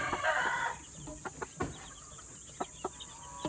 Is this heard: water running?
no